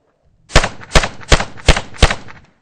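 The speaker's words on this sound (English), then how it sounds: "As soon as you bring the gun on target and you see the sight on there, start shooting." Five sharp handgun shots at a target on a training range, fired in an even, quick rhythm, loud and close with no talk.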